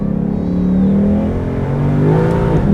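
A Ford Mustang's engine blips and revs through downshifts on a road drive, a close, loud, throaty growl that rises and falls in short pulses inside the car, with no talking.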